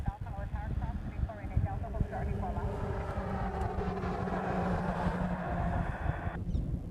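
A KC-135 tanker flies near Honolulu airport, a broad low jet rumble droning steadily at a distance beneath microphone wind buffeting while people chat close by.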